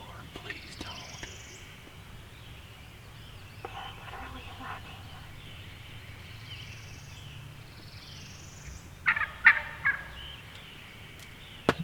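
Wild turkey hens call in a Tennessee woodland during a spring hunt, a series of soft repeated yelps with a few louder bursts near the end, while a man whispers quietly.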